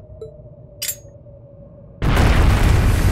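A bomb explodes in the video game Trails of Cold Steel, a sudden loud, sustained roaring blast that follows a quiet stretch with a faint swish and a low tone beforehand.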